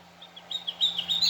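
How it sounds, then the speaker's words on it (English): A Wild Republic Audubon plush hooded warbler toy plays its recorded song, a short series of bright, high, whistled chirps that grow louder toward the end, close by with a faint hum underneath. "Hooded warblers."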